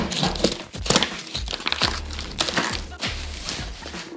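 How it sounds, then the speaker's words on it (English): Tape rips and crinkles in repeated short bursts close up as old stock upper control arms for a Chevy Silverado ZR2 are wrapped, an irregular run of tearing and crumpling sounds. "Tape this up really good."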